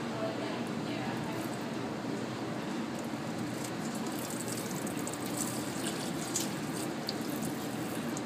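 Water runs steadily from a tap into a sink in an encaustic art studio, a constant close rushing hiss lasting throughout with no pauses.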